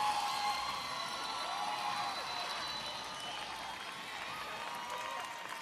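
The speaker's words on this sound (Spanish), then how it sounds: "El aplauso para Drag Shetlas y para todo su cuerpo de baile." Gala audience at a drag performance in Gran Canaria giving sustained applause and cheers, a broad even roar of clapping that holds steady and slowly eases.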